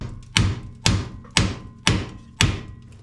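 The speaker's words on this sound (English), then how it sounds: "Two gentle hits with a hammer." Sharp metallic hammer taps on a part of a 1990 Mitsubishi Pajero during a wiper motor repair, evenly spaced close-up strikes each with a short ringing decay, more than two in a steady rhythm, no talking.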